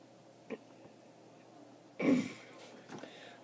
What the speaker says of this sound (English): I have a bit of a cough going on